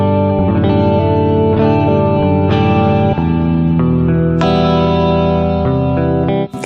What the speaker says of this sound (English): I like 90 on the reverb for the sake of this demo